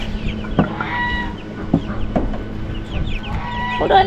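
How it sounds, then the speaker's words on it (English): Chickens cluck and squawk in a brooder amid a chorus of chicks, with several sharp calls breaking through the steady, busy flock noise at close range. "Chickens."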